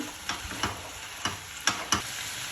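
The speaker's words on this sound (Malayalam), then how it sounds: "ഇത് നമുക്കിനി ഇളക്കി കൊടുക്കാം." Chana curry being stirred in a pot, with a handful of soft scraping strokes of the spoon at an irregular pace over a faint simmering background, close and fairly quiet, with no talking.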